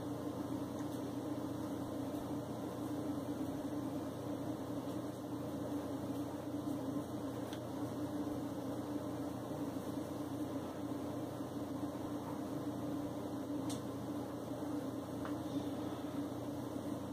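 A Casablanca Four Seasons ceiling fan with a K55 motor runs with a steady, even low hum and faint airy whir, constant and unbroken with no talking.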